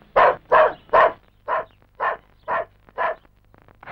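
A dog barks seven times in a steady rhythm, loud and close, the first three barks strongest and the later ones a little softer, with a faint low hum underneath.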